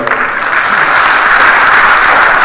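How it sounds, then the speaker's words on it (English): Steady, loud audience applause fills a closing ceremony hall, a dense continuous clatter of many hands with no voices standing out. "I think we can clap hands again for them"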